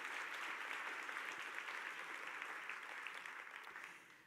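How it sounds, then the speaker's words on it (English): A room full of people at a chamber of commerce women in business event applauding, a dense wash of clapping that gradually thins and fades toward the end. "So please, one more round of applause for all of our sponsors."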